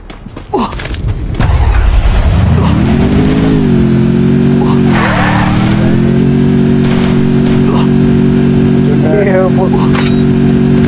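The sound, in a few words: car engine revving in video game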